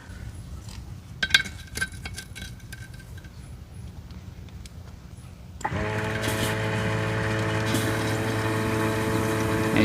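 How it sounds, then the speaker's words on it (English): Air rushing into a tractor tire as it is filled with water, at first sparse clicks and knocks, then a loud steady pumping hiss and hum that continues to the end. "And you can definitely hear the air going in."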